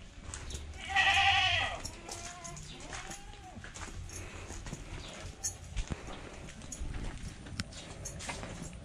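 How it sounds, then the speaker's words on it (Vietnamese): Goats kept on a small family farm in rural Vietnam bleat in a loud burst near the start, followed by softer calls under scattered background noise and people talking. "Mấy con dê này là ai nuôi vậy bà hai?"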